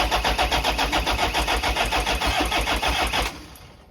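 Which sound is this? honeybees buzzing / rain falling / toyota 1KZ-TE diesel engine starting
toyota 1KZ-TE diesel engine starting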